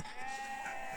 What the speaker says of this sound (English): It was hard to escape the sound of sheep at Boulter Lake.